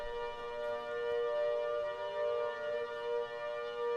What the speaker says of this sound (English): Different tornado sirens create different sounds, but the 810 port to me sounds the most eerie.